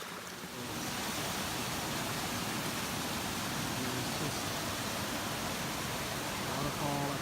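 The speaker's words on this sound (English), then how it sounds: "Waterfall after waterfall" Waterfall on the Ozark Highlands Trail, a steady broadband rush of falling water near a swimming hole, loud and constant throughout without pause.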